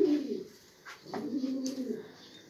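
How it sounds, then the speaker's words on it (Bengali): High-flying pigeons coo softly nearby, with two or three low throaty rolling coos separated by brief quiet gaps and faint wing or shuffling sounds, and no speech. "তো আমরা এখন আপনাদেরকে দেখাবো হচ্ছে মাখরা চকের কবুতর"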